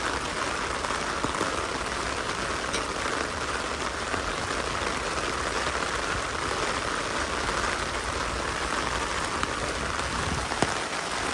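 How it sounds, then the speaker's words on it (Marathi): Heavy rain pours down steadily at Dadar flower market in Mumbai, a dense, even hiss of drops drumming on surfaces with no letup. "आता तर जास्तच पाऊस आला"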